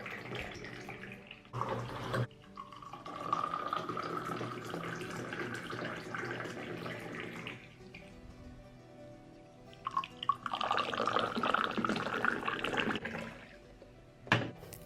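Mint tea poured back and forth between vessels for mixing and aerating, two long close splashing streams of liquid with a brief pause and a few drips between them, no talk.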